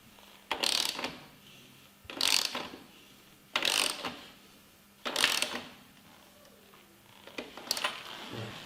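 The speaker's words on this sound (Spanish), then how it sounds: "ahora vamos a apretar el eje a mano subido sobre el caballete" A hand ratchet tightens the axle nut on a Yamaha MT07 motorcycle raised on a stand, heard as five separate bursts of quick clicking ratchet strokes with quiet pauses between them, close by and alone.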